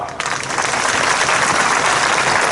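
Crowd applause at a public meeting with a chief minister in a village in Chhattisgarh, India: dense, steady clapping from many hands that rises after a brief quiet start and stays loud and even throughout.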